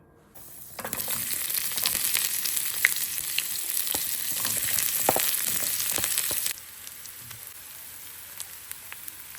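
Food sizzles in a pan with a little oil, a steady close crackle and hiss with occasional scraping stirs, then it drops abruptly to a quieter simmer.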